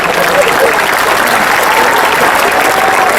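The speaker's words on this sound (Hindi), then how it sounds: "एक बार तालियां बजा दे" A crowd at a Hindi comedy poetry show breaks into loud, dense, sustained applause that fills the whole stretch without pause, close and even in level.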